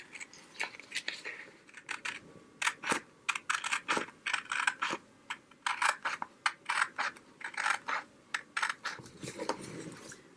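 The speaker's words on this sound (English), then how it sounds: "I'm going to try to cut straight on the line" Scissors cutting paper along a line during a craft project, a rapid run of close, crisp snips in uneven bursts with brief pauses between them, and no voices.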